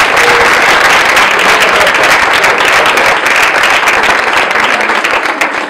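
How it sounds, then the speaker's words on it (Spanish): Loud, dense audience applause at a talk on local history, a continuous roar of many hands clapping close by for the whole stretch. "el gran aplauso que le vamos a brindar aquí a Ismael"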